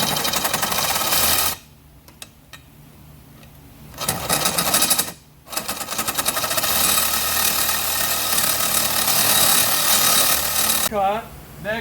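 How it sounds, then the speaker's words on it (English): A Sawzall reciprocating saw cuts through a clamped vinyl gate piece, giving a loud, steady buzzing roar in two long bursts separated by a brief pause, close to the listener. "I'm going to just use the Sawzall to cut this."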